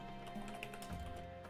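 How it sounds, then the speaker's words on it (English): Typing on a computer keyboard, a quiet steady run of soft clicking keystrokes close to the mic over a low background hum, with no voices. "Typing is hard."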